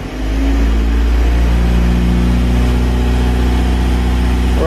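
Toyota fitted with a swapped-in TDI diesel engine, revved and held steady at about 2,000 RPM: a loud, continuous low diesel drone with a constant pitch, close up and with no speech.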